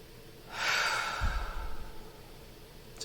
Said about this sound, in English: Just allow yourself to just have a couple of good deep breaths